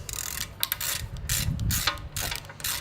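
A hand ratchet snugs up bolts on the torque arm of a 3-link rear end, its pawl clicking in short repeated bursts, close and fairly loud, with pauses between strokes.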